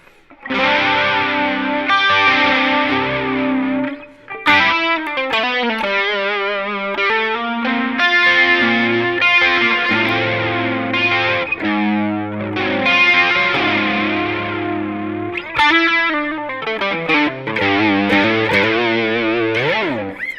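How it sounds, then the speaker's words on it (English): An electric guitar through a Kemper Profiler Player plays overdriven chords and melodic lines with a shimmering, swirling chorus effect, continuous and fairly loud throughout. "Yeah, so that's the chorus sound."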